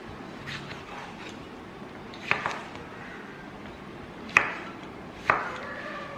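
A knife chops red tomatoes on a cutting board for homemade pasta sauce, giving three distinct sharp knocks over quiet background with soft squishy cuts between.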